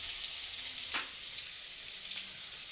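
Onions fry in hot oil with a continuous crackling sizzle, fairly quiet and close, with a couple of brief stirring scrapes and no speech.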